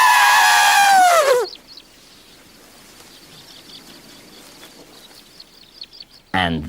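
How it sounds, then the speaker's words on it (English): An elephant trumpets in a children's jungle-animals programme, a loud brassy blast lasting about a second, followed by quiet bird calls and ending with another brief cry. "This is an elephant."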